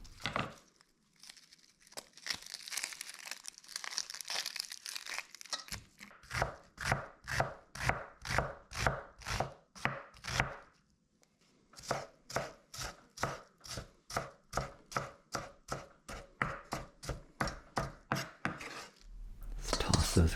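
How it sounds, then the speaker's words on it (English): A knife chops red onion on a cutting board, starting with soft rustling and handling, then a long run of crisp, evenly spaced thuds close up, a brief pause, and another steady burst of chopping. "we're going to get some red onion ready too"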